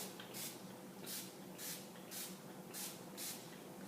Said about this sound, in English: So spray it down a lot.